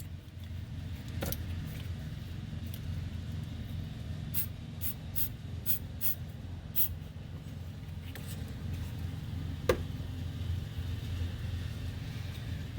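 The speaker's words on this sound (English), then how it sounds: "Spray a little bit of electrical cleaner in here." A few short bursts of aerosol electrical cleaner hiss in quick succession into a 2001 Dodge Dakota engine bay during alternator replacement, against a steady low mechanical hum, with a faint click near the end.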